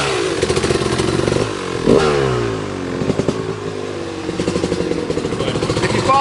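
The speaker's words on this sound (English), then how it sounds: "I got to do a drive-by on this so they can hear it run, Kenny." A 2000 Kawasaki KX250 two-stroke dirt bike rides past close by, its loud buzzing engine rising in pitch as it approaches and sweeping downward as it passes, then revving and burbling on.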